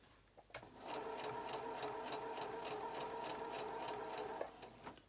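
A sewing machine runs steadily for about four seconds, stitching a kimono-style jacket, with a brief start and stop at each end. The whirring is even and close by, and no one talks over it.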